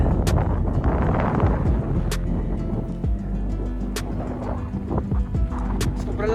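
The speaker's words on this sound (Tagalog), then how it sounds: "Sobrang lakas ng hangin." Strong wind on a mountaintop, Mt. Calib-Ungan, buffets the microphone in heavy continuous rumbling gusts, with occasional sharp knocks and no voices.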